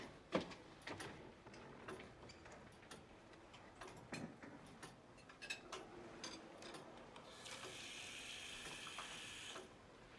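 A kitchen tap runs water into a drinking glass in an elderly woman's home. Scattered clinks and small knocks come first, then a steady close hiss of flowing water that lasts a couple of seconds and stops, with no talk.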